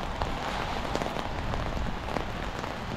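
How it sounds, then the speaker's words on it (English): Steady light rain patters on a surface, a dense even hiss of small drops with no voices, continuous throughout. "It's not raining too hard. It's kind of drizzly."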